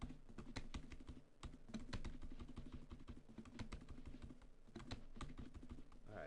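Alt and arrow keys on a computer keyboard are pressed in rapid repeated taps, a quick clicking rhythm with brief pauses, quiet and close, and no voice.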